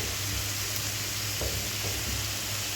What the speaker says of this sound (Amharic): እና እንደዚህ መልኩ ነጭ ሽንኩርታችን እናበስላል።